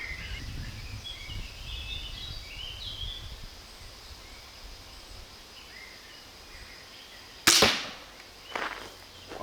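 A full-size 29-gram arrow fires from a full-auto crossbow driven by an eBike motor, one sharp loud snap and whoosh late on, then a softer impact, after a long stretch of outdoor birdsong and insect ambience.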